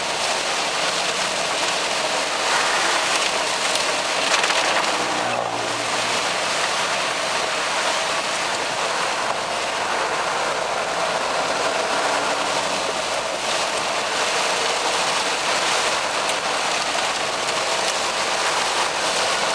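Rain falls steadily during a road trip in South Legazpi, a dense, even hiss of drops on the vehicle that runs for the whole stretch with no talk over it.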